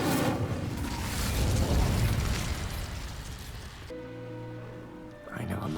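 Incendio fire spell cast in the Hogwarts Legacy video game, a loud roaring whoosh of flame that crackles and swells for several seconds, then cuts off and leaves a brief tonal game sound before a second burst.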